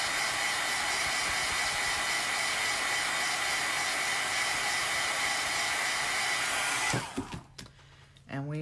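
Hair dryer blowing on a chalk paint craft project made from dollar store pieces, a loud steady close roar lasting about seven seconds before it cuts off, leaving quiet handling noises.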